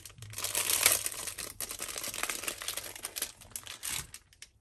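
Small plastic packets of sewing tags being handled and crinkled up close, giving rapid rustling and crackling bursts with brief pauses, quiet and with no talking.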